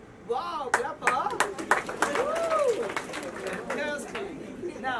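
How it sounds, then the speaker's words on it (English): Audience at a science show in an industrial and technological museum claps in scattered bursts, with crowd chatter, excited voices and squeals mixed in. "Wow, clap up!"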